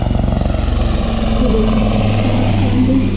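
Military helicopters at an Indian Swarnim Vijay Varsh air show give a steady rotor chop and engine roar close by, a pulsing drone that grows rougher and louder midway.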